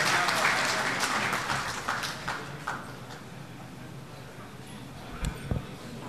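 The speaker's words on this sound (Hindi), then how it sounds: "तालियों से इस्तकबाल करें" An audience at an Urdu literary gathering in Chennai applauding to welcome a speaker, clapping strongest at the start and thinning out, with a few louder knocks near the end.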